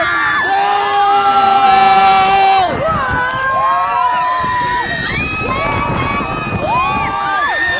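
A Filipino crowd at a live show screams and cheers loudly and continuously, with shrill wavering shrieks and whoops rising and falling throughout, very close and overwhelming.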